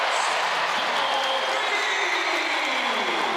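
Basketball crowd in a Miami vs North Carolina game roaring and cheering after a three-point shot, a loud, dense, sustained wash of applause and shouting that holds steady throughout.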